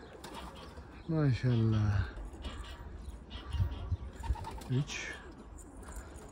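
Pigeons coo in a few clear, rising-and-falling bursts close by, with someone speaking briefly between the calls over a low background hum.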